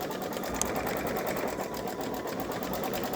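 A Babylock Solaris embroidery machine stitching a satin stitch runs with a steady, even mechanical whir and rapid needle pulse, continuous and close, with no talk.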